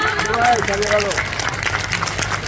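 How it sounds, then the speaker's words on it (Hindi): An audience at a mushaira poetry gathering claps in a short burst of applause, with a voice briefly heard over the clapping at the start. "इतने सामाइन होने के बाद भी इतनी कम तालियां, ये नाइंसाफी है।"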